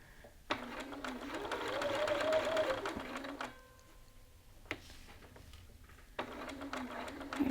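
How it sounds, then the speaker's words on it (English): Sewing machine stitching a lapel seam on a garment in bursts, a fast rhythmic mechanical clatter that runs, pauses briefly and starts again, heard close up with no talking. "You're just sewing right to that point, not past it."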